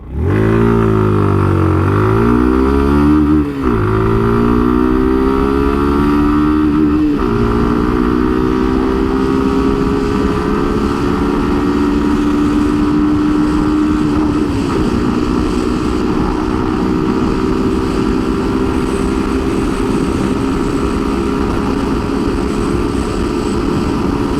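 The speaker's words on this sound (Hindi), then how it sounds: "and now let's give this bike some throttle" A Suzuki Gixxer 155 motorcycle engine revs up through several gear shifts, then holds a loud, steady drone at speed, close by with wind rush.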